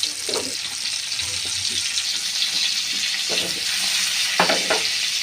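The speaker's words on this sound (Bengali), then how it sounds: "এখন এগুলোকে গরম তেলে ছেড়ে দিচ্ছি।" Battered vegetables fry in hot oil, a loud continuous sizzle with bubbling bursts as pieces settle and are moved, close and without talk.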